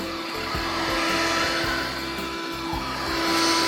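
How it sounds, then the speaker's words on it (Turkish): Vacuum cleaner running continuously, a loud steady motor whine with a humming drone, rising slightly in the last moment before cutting off. "Bugün tekrar süpürge yaptığıma inanamıyorum."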